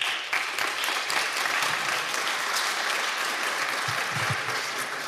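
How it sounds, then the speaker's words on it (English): A tech-talk audience at a Nextcloud contributor session gives steady applause of moderate loudness for several seconds to welcome a speaker. "Please, an applause for Kevin."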